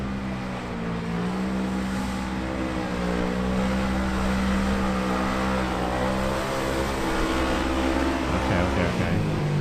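A monster truck engine revs hard while churning through a mud pit, a loud continuous roar with rising and falling pitch, with no talk over it.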